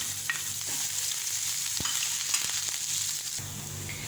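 Grated ginger and chopped green chillies crackle in hot oil for kadhi pakora, a soft, steady sizzle with a few faint pops and a brief stirring scrape.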